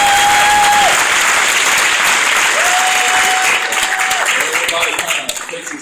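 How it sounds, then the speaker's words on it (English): Loud, dense crowd applause at a talk by a football coach, sustained clapping that gradually thins toward the end, with a voice speaking briefly over it. "go ahead and clap"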